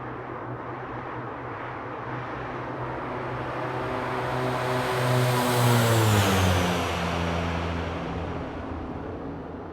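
A Dash 8-Q400 turboprop climbs out in the FlyJSim Q4XP flight simulator, its steady propeller drone swelling and shifting pitch midway before settling, loud and continuous with no talk.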